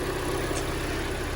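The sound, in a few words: Kia Sportage G4NA engine running at idle after repair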